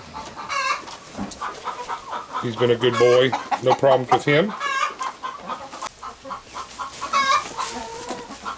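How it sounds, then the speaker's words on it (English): A rooster clucks and calls repeatedly at close range while someone talks over it, with other fowl sounds scattered throughout. "There's our other rooster."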